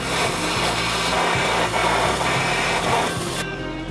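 A Stanley SXPW25 pressure washer at full jet blasts against a wooden board, giving a steady, loud rushing hiss with a deep motor hum underneath, continuous for several seconds before cutting off near the end.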